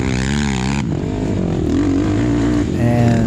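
A racing quad's engine revs hard under a twist throttle at a hare scramble on Maniac Mountain in Buckhannon, West Virginia, loud and close, its pitch rising and falling with a sharp change partway through.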